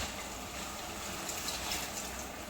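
Water is poured into a pot of gongura chicken curry as it cooks, a soft, steady splashing pour heard up close for a couple of seconds.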